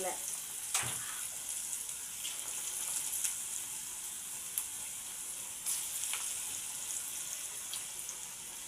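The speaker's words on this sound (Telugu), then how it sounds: "చిట్టి చిన్న గారెలు ఇగో ఇట్లా చేసుకోవాలి చిన్న చిన్నగా చేసుకుంటా ఇట్లా నూనెలో వేయాలి" Small broad-bean garelu fritters fry in oil with a steady, close sizzle and a few brief crackles.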